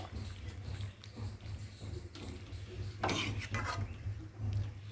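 Malabar spinach curry with stems is stirred in a pot after a little water goes in, with soft scraping and clinking of a spoon over a low steady hum, quiet and close, with no talk.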